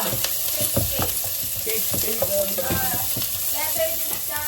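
Sautéing (gisa) in a pan for pork legs nilaga, with close oil sizzle and frequent clattering stirs and scrapes of a utensil on the pan, busy and continuous, no talking.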